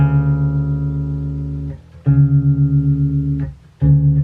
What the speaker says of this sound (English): If I play a root note and a seventh,